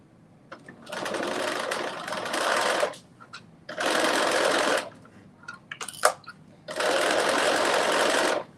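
A sewing machine stitches a seam with a five-eighths inch allowance in three steady runs of a few seconds each, separated by short pauses with light handling noises.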